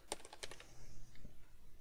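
A few quick keystrokes tapped on a computer keyboard, close and fairly soft, fading into a quiet room with low background noise.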